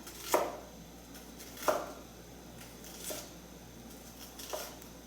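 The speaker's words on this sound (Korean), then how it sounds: "김치 맞춰주시고 채썰기 하겠습니다" Vegetables such as chili and napa cabbage being julienned with a knife on a board, with four sparse, quiet chopping knocks spaced more than a second apart against a faint steady hum, with no talking.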